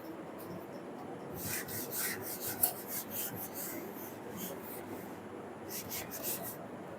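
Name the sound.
erasing writing on a board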